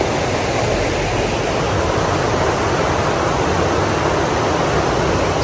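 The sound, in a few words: flowing river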